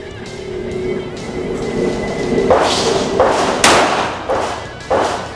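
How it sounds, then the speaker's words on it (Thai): Five sharp, loud gunshots from a Taurus G2S 9mm pistol at a shooting range, fired in a quick irregular series over a steady low background hum. "ผู้ยิงพร้อม พร้อมแล้วเริ่มยิง"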